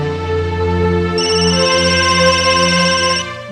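Telephone ringing loudly and steadily with an electronic ringtone, one continuous tonal ring that holds for several seconds, close by with no talking over it.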